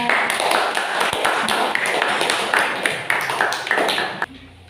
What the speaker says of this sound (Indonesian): kita kasih tepuk tangan untuk kelompok 2